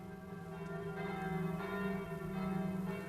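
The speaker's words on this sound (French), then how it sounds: "Le bruit des cloches m'est si déplaisant ce soir que je ne pourrai pas écrire." Church bells ring in the evening, a faint but sustained chorus of overlapping metallic tones that swells and fades in gentle pulses throughout, with no voices.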